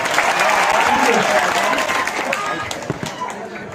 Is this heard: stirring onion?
no